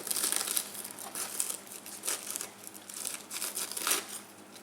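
Lettuce leaves being carefully peeled from a cored head crackle and crinkle in quiet, close bursts of rustling, with no talking.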